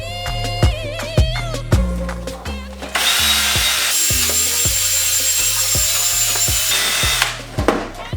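Sanding a Porsche 996 Turbo headlight lens with 3000-grit paper: a steady, close abrasive hiss through the middle stretch, with music playing throughout.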